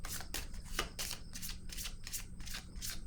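Cards being shuffled for a tarot-style reading, a steady run of crisp papery riffles repeating about every third of a second, close and clear with no talk.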